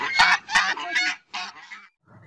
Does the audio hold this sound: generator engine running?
no